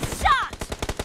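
M4 rifle fire in the mobile shooter BGMI rattles out as a rapid automatic burst of sharp, closely spaced shots, loud and near, with a short tonal game effect just before the burst.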